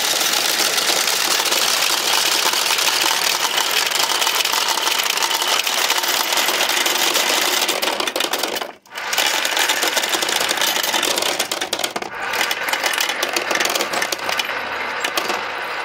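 A vintage pachinko machine's ball lifter autoloader runs with a dense, loud mechanical clatter and whir, briefly cutting out midway before resuming steadily, close up with no talking.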